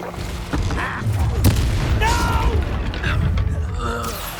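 A spell effect cast in Hogwarts Legacy, a deep magical boom with whooshing and creaking mechanical tones amid combat noise, fairly loud and close, with voices speaking over it.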